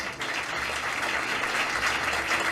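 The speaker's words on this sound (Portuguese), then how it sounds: "Os que podem dar a Jesus mais uma linda salva de palmas." Church congregation applauding Jesus during a Brazilian evangelical service, a steady dense wash of clapping from many hands filling the room without pause.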